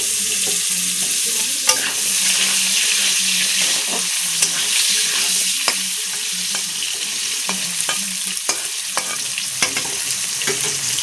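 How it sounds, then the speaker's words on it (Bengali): Potato pieces coated in salt and turmeric sizzle steadily in hot oil in a pan, with a spatula scraping and stirring at irregular intervals throughout, loud and close. "লাল লাল করে আলুটা ভাজা করে নেব।"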